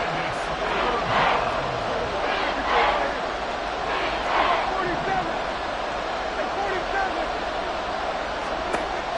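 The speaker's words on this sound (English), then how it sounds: "The Arrowhead crowd in full roar." A stadium crowd roars continuously at Arrowhead Stadium during a football game, a dense, loud wall of cheering with swelling surges, and faint commentary underneath.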